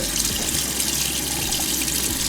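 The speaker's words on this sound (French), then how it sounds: "on commence par mettre de l'eau froide du robinet, on laisse couler un petit peu" Cold tap water runs steadily from a faucet into a sink, a loud, close, continuous splashing rush with no voices.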